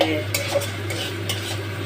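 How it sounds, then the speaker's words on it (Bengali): Onion and green chili fry in a pan for fried rice, giving a steady close sizzle broken by a few short scrapes and knocks of a spatula, with a constant low hum behind it. "পেঁয়াজ কাঁচা লঙ্কা দিয়ে ভাজছি"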